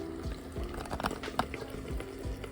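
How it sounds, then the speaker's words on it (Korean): Soft, steady bubbling of something simmering in a pot, with small pops and gurgles at close range and no talking. "맛있는 소리 보글보글."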